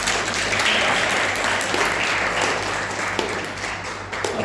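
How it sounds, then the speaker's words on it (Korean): Church congregation applauding during a Sunday worship service, a loud, dense and steady roar of many hands that fills the room and tapers slightly toward the end. "일어나주시면 박수로 부탁드리겠습니다"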